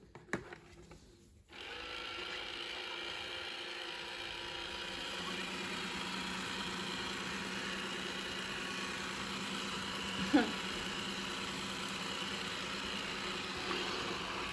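A Rowenta XPLORER 130AI robot vacuum starts up and drives off, its steady motor whir and brush hum running continuously at a moderate level after a brief quiet start, with a single bump partway through.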